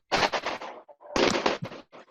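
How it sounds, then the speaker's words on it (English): Loud fireworks crackle and pop outdoors in two rapid volleys of sharp bangs, with a short pause between them. "We hear the fireworks."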